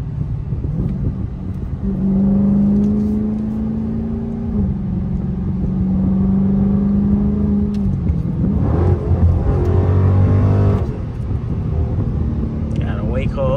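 A Dodge Scat Pack SRT 392 engine rumbles loudly and close with a deep, steady idle, then rises into a brief rev before settling, with people talking over it.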